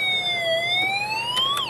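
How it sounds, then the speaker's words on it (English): Electronic siren from a Snap Circuits Alarm IC playing through a small speaker, a loud continuous wailing tone that slowly dips and rises in pitch, close and uninterrupted. "we get a siren playing out of the speaker"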